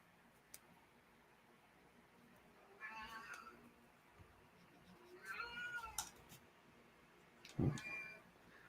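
Several cat meows at intervals, rising and falling whines at moderate distance, with a louder, harsher yowl near the end over a quiet room.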